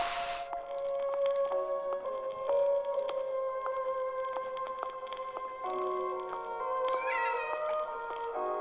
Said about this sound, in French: Oh, petit chat.